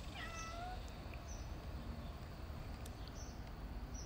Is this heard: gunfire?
no